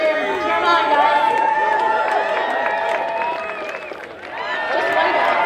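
A ballpark crowd at a summer collegiate baseball game cheers and whistles for a ceremonial first pitch, a dense, lively roar of voices with shouts rising over the top for the whole stretch.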